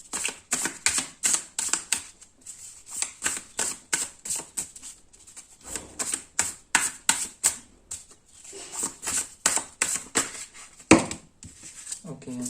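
Tarot cards are drawn and handled close up in a run of crisp flicking, snapping and shuffling sounds that come in quick bursts with short pauses, while a person talks quietly in between.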